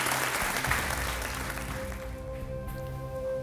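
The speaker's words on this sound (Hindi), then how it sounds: "तालियों के साथ आपका हम स्वागत करते हैं" A studio audience on a Hindi game show set claps to welcome a contestant, a loud dense burst of applause that fades out over a few seconds while a low musical tone rises underneath.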